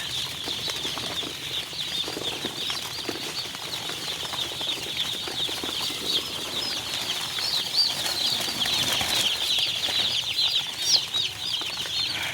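A dense, continuous chorus of high-pitched peeps from broiler chicks in a brooder, many small birds cheeping at once with no talking.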